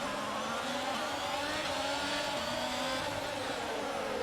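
Formula 1 cars roar away from the Baku grid at the Azerbaijan Grand Prix start in F1 22, a steady, loud, dense engine howl with rising, overlapping revs throughout and no talk.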